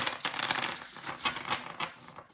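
Tarot cards of the Ember and Aura Tarot Awakening Edition, nice cardstock, are shuffled by hand, a close, continuous riffling and crisp flapping of cards with no talking.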